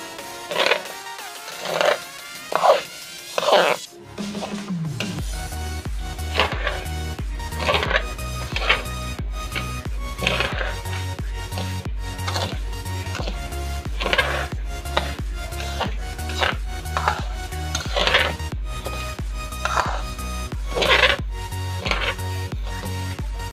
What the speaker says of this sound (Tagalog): Hinahinay lang sa pagsangag.